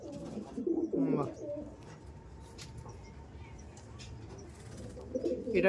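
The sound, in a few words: pigeons cooing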